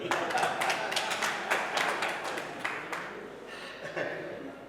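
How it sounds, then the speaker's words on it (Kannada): An audience at a Karnataka Sahitya Parishat cultural event in Raichur claps together, a dense patter of many hands that swells at the start and gradually thins out, moderately near. "ಚಪ್ಪಾಳೆ ತಟ್ಟಬಹುದಲ್ಲ ನೀವು."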